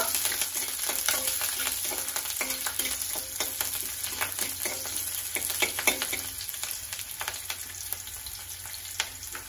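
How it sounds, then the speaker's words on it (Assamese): Onion, green chilli and ginger strips frying in oil on low heat for an Assamese fish dish, a continuous fine crackling sizzle with faint stirring taps, steady and close, no speech. "এইটো কম জুইত অলপ ভাজি ল'ব লাগিব।"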